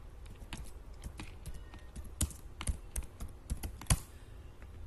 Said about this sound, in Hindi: लेकिन मैं अगर यहाँ पे लिखता हूं मृदुल गुप्ता,